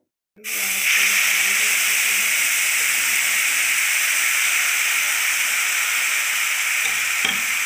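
Onion and cumin tadka for kadhi sizzles loudly and steadily in a pan, a dense close hiss that starts abruptly and holds for several seconds with no talking over it.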